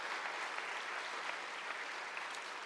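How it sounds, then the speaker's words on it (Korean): Congregation applauding warmly in a church as a retiring elder and new appointee turn to greet them, a dense, steady wash of clapping throughout with no talk. "회중들을 향하여서 인사하실 때 뜨겁게 박수하시겠습니다"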